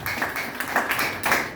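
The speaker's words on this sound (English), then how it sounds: "Please give them a round of applause." Audience applause for a group of new business starters at a gathering, a short burst of close, uneven clapping with irregular surges and no talk.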